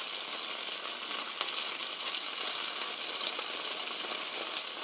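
Chicken pieces for orange chicken pan-frying uncovered, giving a dense, steady, close sizzle with fine crackling throughout and no talk.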